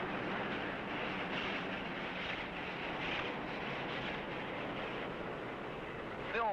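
A train carrying treasure rolls along the rails in a film scene, a continuous mid-level rumble and clatter that holds steady throughout and ends with a brief higher squeal.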